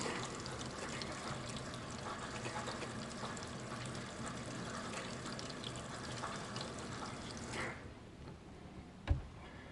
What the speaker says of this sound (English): Fill my tank with water.